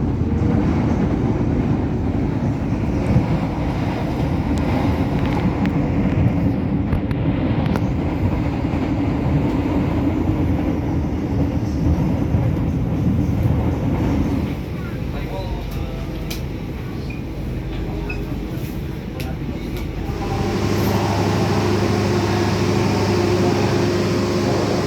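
Inside the Motis Selatan passenger train at night, a steady rumble and rolling noise continues throughout, shifting in tone toward the end, with speech faintly present.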